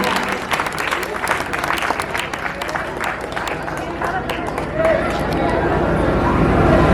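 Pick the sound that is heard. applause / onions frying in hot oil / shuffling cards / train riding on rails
applause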